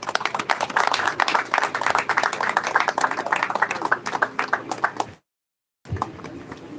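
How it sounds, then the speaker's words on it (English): Congregation clapping hands at a memorial service, a rapid, uneven patter of many hands for about five seconds, then a short silent cut before more distant sound and voices resume. "Clap those hands for Jesus"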